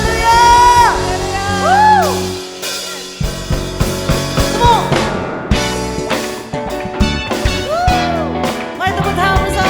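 A church congregation at a Sunday worship service in Indonesia cheers, whoops and shouts praise over loud ongoing worship music, with rising vocal cries standing out near the start and again toward the end.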